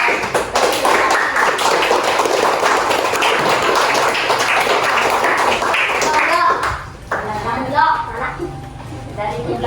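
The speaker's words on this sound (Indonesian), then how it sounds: "Kita berikan tepukan kepada semua peserta yang sudah" Classroom applause for participants in an elementary school lesson, a dense sustained patter of many hands clapping that fades out near the end, followed by a teacher beginning to speak.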